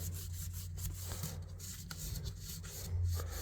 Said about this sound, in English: So we'll just get down in there a little bit with this 1000 grit, loosen that stuff up